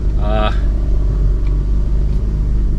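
A BMW 628 CSi engine, just revived after two years unstarted, idles with a steady low rumble throughout, with a brief higher whine near the start.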